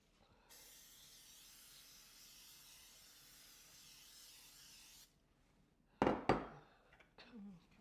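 Cooking spray hisses from a can onto a pan during a cooking class, a steady spray lasting several seconds. It is followed by brief clattering and bumps nearby.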